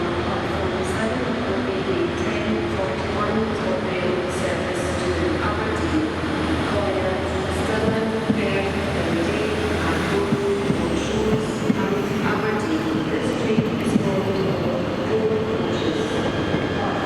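A ScotRail class 156 diesel unit rumbles through Glasgow Queen Street station, a continuous mid-level engine drone with squeals and clatter under the roof, steady throughout with occasional sharper clicks.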